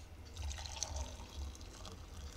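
Freshly boiled hot water poured into a cup for a turmeric drink makes a continuous close trickle and splash that fills the cup, heard alone without talk.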